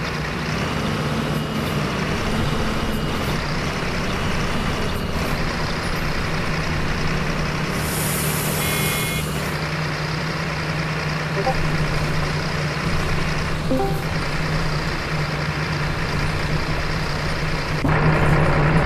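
A Caio Apache Vip IV Mercedes-Benz OF-1724 city bus on a Fortaleza route 072, its engine droning steadily from inside the cabin, with a brief hiss and faint chimes and voices in the background.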